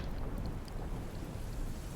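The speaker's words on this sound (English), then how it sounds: "And it's raining." Rain falls steadily in the video game Sons of the Forest, a dense, even hiss with a low rumble of thunder underneath and no voices.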